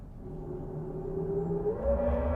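Synthetic drive sound from a Hyundai Ioniq 5 N electric sports car in its fighter-jet-inspired Supersonic mode, a smooth rising whine that climbs in pitch over a low hum, steady and fairly loud with no talking.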